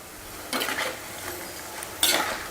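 Onion pakoda made with wheat flour dropped into hot oil, with two bursts of bubbling sizzle and faint stirring clinks over a low background hiss.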